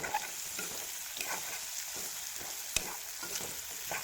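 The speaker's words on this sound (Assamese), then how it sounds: "মাছৰ লগত মছলাখিনি মিহলি যোৱাকৈ ভাজিম অলপ সময়" Fish with spices sizzles steadily in a hot pan with oil crackling, interrupted by occasional scraping and clinks of a spatula stirring.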